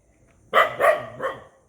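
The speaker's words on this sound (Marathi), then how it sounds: "हे आत्ता एकच कुत्रं भुंकतं आहे" A single stray dog gives three quick barks in a row, fairly close and clear against a quiet background, in Alibag.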